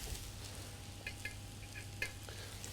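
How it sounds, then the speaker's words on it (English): Handfuls of mushrooms sizzling in hot oil in a pan, a steady soft hiss broken by a few brief crackles and pops, close and low in level, without speech. "I'm just going to pop a handful of each mushroom into the pan, all at the same time."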